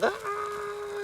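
A single chicken call, a short rising squawk followed by a long steady held note, close and fairly loud, with no talking.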